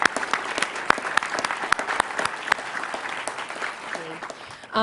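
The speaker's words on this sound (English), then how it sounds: "a round of applause for this great, great fusion" Audience applause fills a hall during a news program's welcome event, a dense sustained wash of clapping with a few sharp individual claps standing out, ending with a brief voice.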